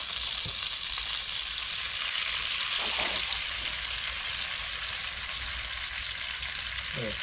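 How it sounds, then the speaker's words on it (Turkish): Margarine topped up with vegetable oil sizzles steadily in a frying pan, a constant close hiss with occasional stirring scrapes and clinks. "Margarinimiz az kaldı kaldığı için içine biraz da sıvı yağ koyacağız"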